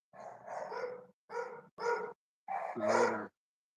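Dogs bark in four separate bursts, some barks running together into longer clusters, close and fairly loud, separated by short silences, with the last burst the strongest.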